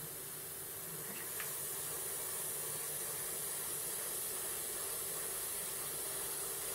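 An INKED Ninja airbrush spraying air with the valve fully open, a steady close hiss that holds evenly from start to finish with no speech.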